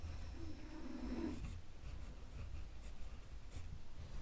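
Pen writing answers on paper during a class, faint soft scratching strokes close by with brief pauses, against a quiet background.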